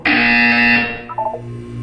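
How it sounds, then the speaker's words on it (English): A harsh electronic buzzer in the video game Portal 2 sounds once, loud and close, holding for under a second before cutting off, followed by a few quieter electronic tones. "When you hear the buzzer, look down at the floor"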